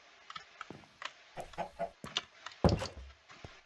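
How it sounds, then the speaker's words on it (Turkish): A chicken in the Minecraft video game clucks in a string of short, close, fairly loud bursts, with a heavier squawk near the end and no speech. "Köylüler yetişin bir tane tavuğumuz oldu çünkü gel."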